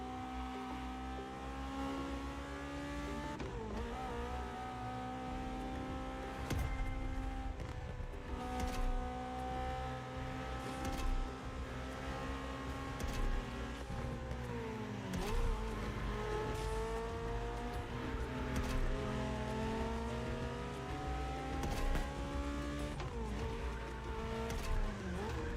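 Honda S2000 driving in The Crew Motorfest racing game played with a Fanatec wheel, a continuous engine drone whose pitch rises and falls through gear changes, with tire squeal under a constant bed of game sound.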